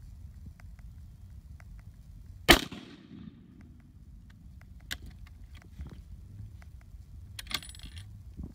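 One sharp .30-06 rifle shot with 180 grain ammunition, fired 25 yards downrange into a wet pack bucket with a TV behind it. A single crack rings out mid-clip and decays quickly, with a few faint clicks and light rustling around it.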